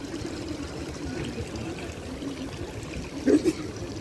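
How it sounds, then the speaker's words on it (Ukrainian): Water from a Bernini fountain in Rome splashes and trickles steadily in the open air, a continuous wash of pouring water with a brief louder splash near the end and faint voices in the background. "Це теж фонтан Берніні."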